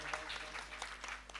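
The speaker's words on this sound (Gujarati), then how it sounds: "જોરદાર તાળીઓથી એમને પણ વધાવો." Clapping from the crowd at a devotional Santvani Dayro folk music gathering, faint and steady through a short stretch, with no voices over it.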